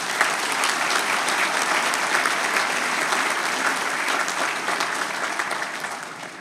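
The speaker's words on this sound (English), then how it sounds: "Let's give them all a big round of applause," Convocation audience applauding steadily at a university graduation ceremony, a dense sustained wash of many hands clapping that holds level for several seconds before thinning slightly at the end.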